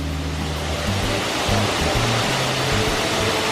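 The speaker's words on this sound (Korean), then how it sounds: "아 폭포 오 밤에 오니까 진짜 멋있다" A waterfall at night near Taipei roars in a loud, continuous wash of broadband rushing water, steady throughout with no voices.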